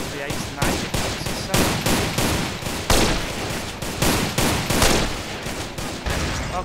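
Sniper rifle fire in GTA San Andreas, modded with GTA V animations, cracks out as a loud, rapid string of shots about half a second apart with no pauses.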